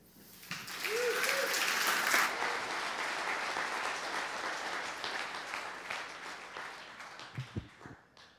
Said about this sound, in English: So let's give another round of applause to all of our speakers today.